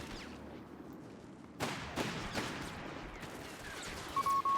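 Gunfire in a WWII strategy video game, scattered sharp bursts and cracks at moderate distance over a low battlefield rumble.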